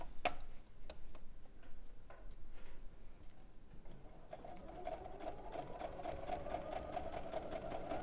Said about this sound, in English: There's the sewing machine.